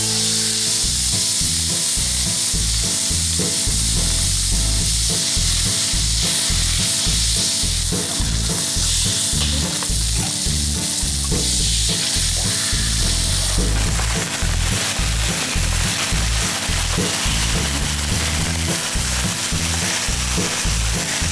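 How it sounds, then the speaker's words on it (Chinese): Steak searing in a hot pan at an outdoor cookout, a loud, steady sizzle with continuous frying crackle and rhythmic low thumps throughout, no voices. "我们牛排刚刚先下的话，我们等一下还要再煎一次。"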